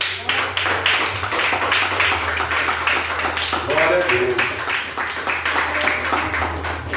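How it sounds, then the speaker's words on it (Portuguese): Church congregation clapping through a worship service, steady dense claps under a voice speaking and a low sustained hum. "Vamos aplaudir Jesus?"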